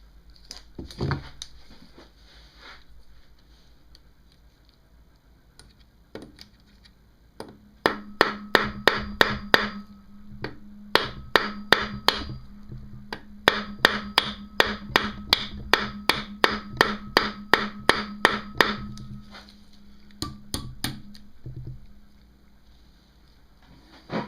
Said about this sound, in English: I have this screwdriver bit that fits in there, so I'll try and pound that in and see how that works.